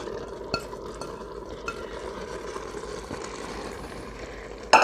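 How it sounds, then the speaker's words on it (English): 500 grams of crumbled paneer stirred in an Instant Pot, a low continuous scraping and shuffling with faint sizzle and a few light spoon taps, ending in a sharper clink. "A quick stir."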